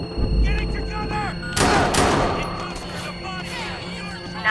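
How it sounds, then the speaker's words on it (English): Bursts of gunfire in the video game Watch Dogs 2, a dense volley of shots up close with a heavy low rumble and game voices over it. "Please hurry, someone's shooting!"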